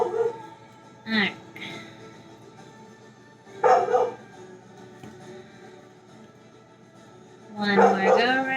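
A dog barks in three separate bursts indoors, each loud and nearby, with quiet pauses between them.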